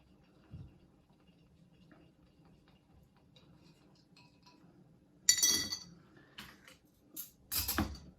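Ice clinking in a glass as a shochu cocktail is stirred, quiet faint rattles at first and then louder bright clinks and knocks of ice against glass near the end, no voices.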